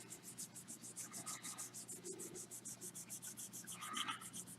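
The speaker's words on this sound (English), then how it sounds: "You can see I got the pad wet, and that's why I do my wet sanding." A wet, soapy sanding pad is rubbed back and forth over the clear-coated body of a 1948 Ford, a quick regular rasping rhythm of close strokes, with no talking.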